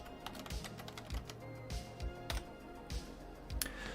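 Rapid clicking on a computer keyboard during work in Unreal Engine 5, close and fairly quiet, with a steady irregular run of key taps and a few heavier strokes.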